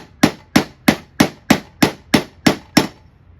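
Eight sharp, evenly spaced metallic hammer whacks on a breaker bar loosening a bolt on a Ford YT16 lawn tractor mower deck, close and loud, each blow ringing briefly before the next.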